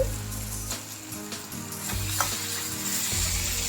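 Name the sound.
ginger garlic paste frying in a pan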